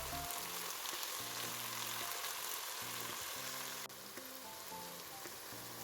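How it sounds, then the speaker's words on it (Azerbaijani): Green beans and onions fry in a covered pan, giving a steady, fairly soft sizzle with faint crackles and a low hum underneath, and a short tap partway through. "Tavanın qapağını qoyuram ki, soğanlar da qovrulsun"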